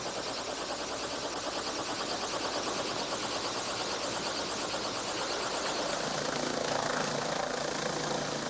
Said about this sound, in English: they'll do it by helicopter.